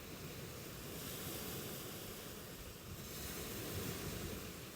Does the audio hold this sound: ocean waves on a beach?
yes